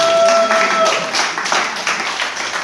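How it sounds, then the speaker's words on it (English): Conference audience bursts into applause, a brief, loud round of clapping from a crowd with a faint tone at the start, tapering off within a few seconds. "Round of applause."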